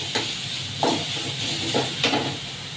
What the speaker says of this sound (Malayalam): ഈ ഉള്ളിയുടെയും വെളുത്തുള്ളിയുടെയൊക്കെ പച്ചച്ചോയ മാറുന്നത് വരെ അങ്ങനെയൊന്ന് മണക്കുക കേട്ടോ